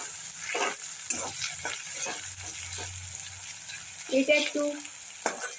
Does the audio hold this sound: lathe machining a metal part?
no